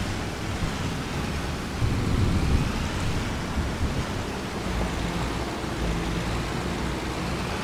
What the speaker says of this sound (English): Still raining a little, but you know,